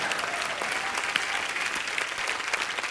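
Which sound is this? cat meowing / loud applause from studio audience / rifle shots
loud applause from studio audience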